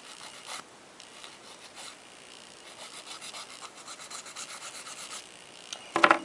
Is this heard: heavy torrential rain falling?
no